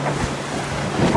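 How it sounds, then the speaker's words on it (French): Strong wind buffets the microphone aboard the racing trimaran Sodebo at sea, a steady rushing roar with water noise beneath and no voices. "alternance de rafales et de vent calme comme en ce moment"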